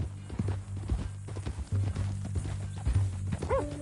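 Steady horse hooves clip-clopping at a walking pace, close by, with a brief whinny near the end and some low rumbling in the background.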